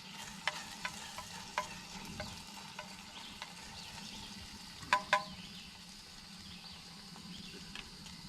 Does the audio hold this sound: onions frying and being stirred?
yes